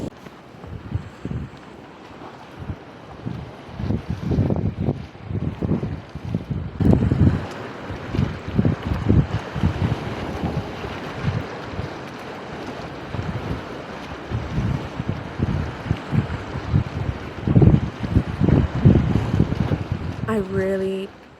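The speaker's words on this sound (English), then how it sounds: "I really, truly could have sat there and just listened to the waves crashing for hours" Waves crashing on a Scottish beach in a continuous low rumbling surge with repeated swells, steady wind buffeting the microphone throughout, close and loud.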